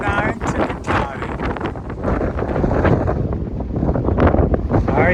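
Strong wind on a mountain buffets the microphone in loud, rumbling gusts while a person talks over it.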